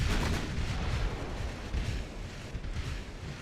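Nine-inch naval guns fire in the Ultimate Admiral naval warfare game, heard as a rumbling barrage of distant, muffled booms that blend into a continuous low roar.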